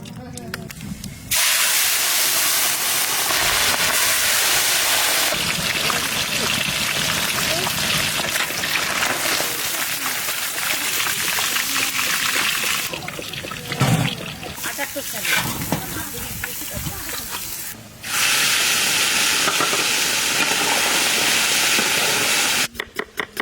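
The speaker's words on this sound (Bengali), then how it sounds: "আমি কড়াই চাপিয়ে ভেজে নেবো মাছ।" Fish frying in mustard oil in a wok, a loud, steady hiss of steam and spattering oil that runs almost without pause, with brief breaks and a faint voice underneath.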